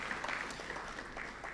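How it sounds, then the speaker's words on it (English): An audience at a book launch claps steadily for a short stretch, a soft, continuous patter of hands filling the room at moderate distance. "Let's give him another round of applause."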